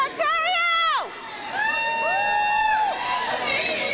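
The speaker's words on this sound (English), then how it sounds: "During the race, we can cheer." Spectators at a race cheer and shout, with drawn-out voiced yells and whoops rising over a continuous crowd din.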